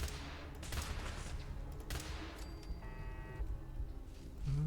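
Turret gunfire in Fallout 4 as an automated turret engages: faint, distant bursts of rapid shots with sharp transients, set against quiet ambient game sound and a brief electronic tone.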